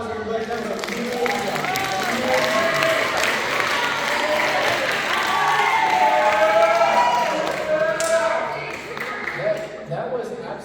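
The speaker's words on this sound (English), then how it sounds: "Give them a nice round of applause, everybody" Audience applause at a comedy hypnosis show for a volunteer, a sustained crowd of clapping with some cheering, lasting about ten seconds, with voices mixed into the crowd noise.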